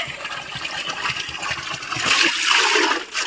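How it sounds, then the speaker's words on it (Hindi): Water gushing loudly while being collected at a mountain spring outlet near a temple, a steady rushing pour that swells toward the end. "मैं फट से जाती हूँ और पानी भर के लाती हूँ"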